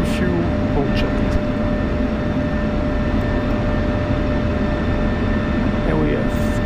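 An F-16 jet engine idles steadily after a cold start in the DCS flight simulator, a loud constant roar with a high whine, with a few faint clicks from the cockpit and no talk.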